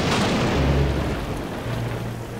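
Steady rain in a Thomas & Friends cartoon, a dense, even hiss of falling water with a low rumble underneath, continuous and fairly loud throughout.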